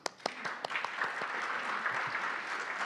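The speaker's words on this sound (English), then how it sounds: "Let's have another round of applause." Audience applause after a conference panel discussion, opening with a few sharp separate claps that swell into steady clapping from a hall crowd, moderately faint and sustained.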